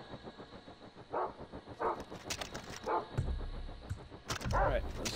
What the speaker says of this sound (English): The stupid dogs.